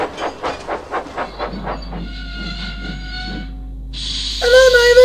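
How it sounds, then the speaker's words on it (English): A small tank engine puffs into a quarry, its rhythmic chuffs fading as it slows and settles into a hiss, then a sharp, bright whistle sounds near the end; no one speaks. "As he puffed up to where the train was waiting, Mavis was shunting the last of them onto th"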